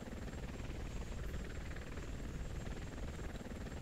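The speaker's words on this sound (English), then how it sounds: "now he's waking up to the helicopter." Steady, dense rotor-and-engine drone of a helicopter in the Muv-Luv Extra visual novel, continuous and fairly loud for the whole stretch, with no talking over it.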